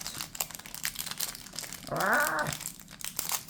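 A small plastic pack of workout stickers crinkles close up for about half a second, a bright rustling burst standing out from a quieter, busier background.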